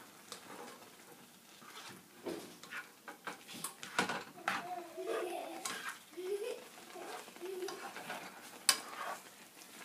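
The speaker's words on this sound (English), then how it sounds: "Now I'm going to mix it everything together." Mixed vegetable curry being stirred in a pan, with soft scraping and clinking of a spoon against the pan in irregular strokes, fairly close but quiet, over a faint sizzle and light background noise.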